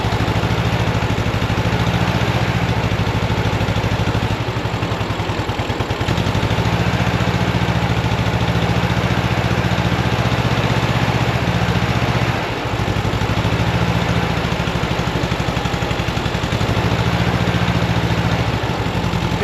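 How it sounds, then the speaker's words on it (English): A 1965 VW Beetle convertible's engine idles roughly on only two cylinders, a steady loud uneven chugging drone with a brief dip partway through, alone without speech. "So we're only running on 2 cylinders here."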